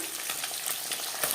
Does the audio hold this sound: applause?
no